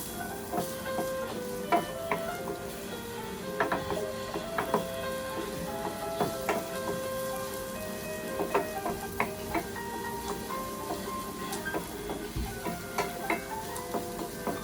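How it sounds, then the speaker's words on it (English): Onion and garlic sauteing in a pan for a light pasta dish, with a steady low sizzle and frequent clinks and scrapes of a utensil stirring against the pan, close and fairly quiet, no talking. "We have to saute until golden brown"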